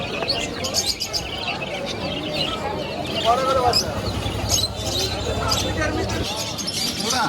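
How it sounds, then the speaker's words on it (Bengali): Finches chirp and tweet in busy bursts at the Mirpur bird market, heard close among market bustle while people talk over them. "আরো কিছু ফিন্স পাখি আছে।"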